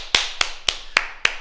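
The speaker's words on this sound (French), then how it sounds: "On s'applaudit." Five sharp, evenly spaced group claps ring out in a steady rhythm from an adult martial arts class, each a crisp unison clap with silence between.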